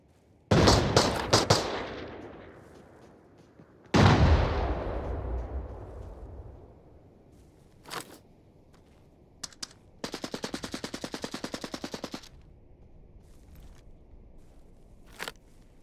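Gunfire in a firefight in Arena Breakout Infinite: two heavy single shots ring out with long decaying echoes, followed by a sharp crack and then a sustained automatic burst of rapid evenly spaced rounds, with a final lone shot at the end.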